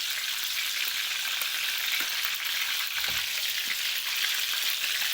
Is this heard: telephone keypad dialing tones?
no